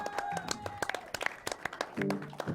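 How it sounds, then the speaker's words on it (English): A studio audience gives a round of applause for the guests on a midnight talk show, scattered claps crackling for a couple of seconds under a host's voice and some background music. "Can we have a round of applause for all my guests tonight?"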